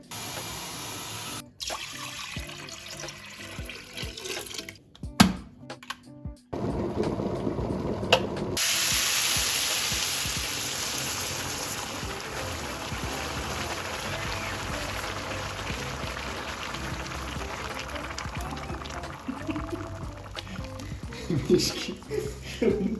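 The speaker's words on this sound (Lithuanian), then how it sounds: "Užkaičiam dvigubai daugiau vandens negu buvo ryžių." Water is poured into a pot of frying rice with peas and nuts, starting after some clattering as a long, steady hissing rush, with voices talking over it in a home kitchen.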